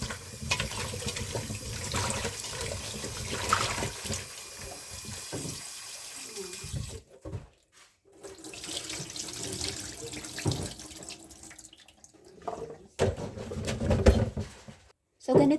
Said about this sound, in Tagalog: hugasan natin ang ating kalabasa. Hugasan natin ng maayos.